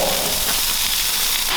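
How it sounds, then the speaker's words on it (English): Steaks sizzle loudly on a hot outdoor grill in snowy weather, a constant close hiss and crackle of fat with no pauses. "now it's time to get those steaks on the nice hot grill"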